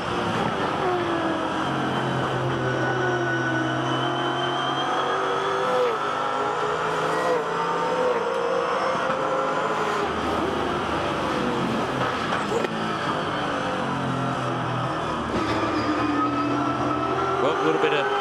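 A V8 Supercar at Bathurst runs at full throttle through its gears, a loud continuous engine roar with rising revs and shift breaks, over a commentator talking.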